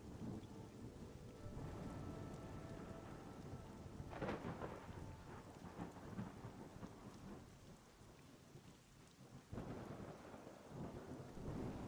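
Rain and thunder in a video game: steady rainfall hisses throughout while several rumbling thunder rolls swell and fade, all fairly quiet and without talk.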